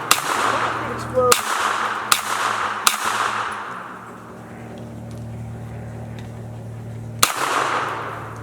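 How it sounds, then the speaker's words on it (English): Troy A4 9mm carbine firing at a watermelon outdoors: five sharp, loud reports, with four spaced close together early on and a lone final shot after a pause, over a steady low engine-like drone. "I've actually never shot watermelon before in the past 10 years"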